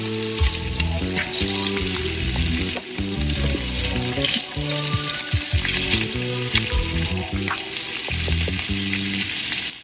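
Smoked sausage slices fry in a hot skillet as they are turned one by one, giving a steady close sizzle and crackle with scattered pops and light clinks of a fork.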